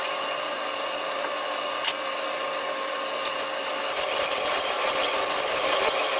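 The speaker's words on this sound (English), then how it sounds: "it's getting a lot harder to drill now" An old lathe driven by a new VFD drills into a workpiece past the end of its pilot hole, a steady loud whine with a sustained high tone and grinding texture that roughens slightly toward the end, no talking.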